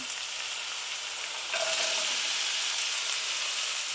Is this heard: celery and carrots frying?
yes